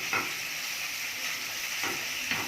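A quarter kilo of chicken frying in a heated pan, a steady even hiss of oil throughout with a few faint scrapes of stirring, no talking.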